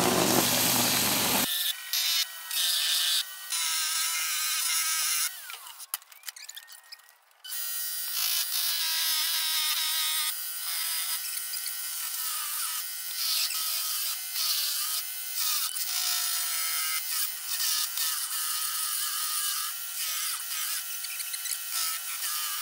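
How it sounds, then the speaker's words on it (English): A belt sander grinds at plywood edges with a continuous high, raspy whir, briefly dipping now and then, with no talking. "now I just used my belt sander to clean up all the edges and make it look nice"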